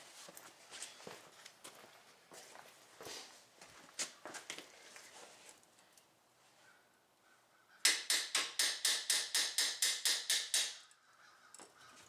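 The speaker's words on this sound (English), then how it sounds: "Time to grab the hammer." Repeated hammer blows on a stuck brake part of a 2006 Buick Lucerne during a pad and rotor job, about a dozen sharp metallic strikes in quick, even succession, loud and close, after scattered softer knocks and shuffling.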